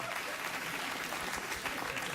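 A studio audience at a late-night talk show applauds in a dense, steady wash of clapping that holds at an even level throughout.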